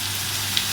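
Cumin seeds sizzle in hot oil in a pan for a Punjabi-style crispy moong dal, a brief, even frying hiss with no talking.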